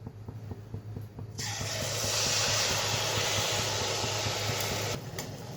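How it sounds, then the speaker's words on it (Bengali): Malpua batter made with palm fruit hitting hot oil in a wok, a loud, steady close hiss that rises suddenly and holds for several seconds before dropping back, no talking. "কড়াই বসিয়ে দিয়েছি, তেলও দিয়ে দিয়েছি। তেলটা গরম হয়ে গেছে। তো এক এক করে মালপোয়াগুলো ছেড়ে দিই।"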